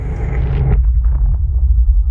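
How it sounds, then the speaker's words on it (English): A booming New Year's Eve explosion like loud thunder, one heavy blast with a deep low rumble that rolls on and fades, very loud and near. "a booming sound like thunder turned up to 11 drowned out everything"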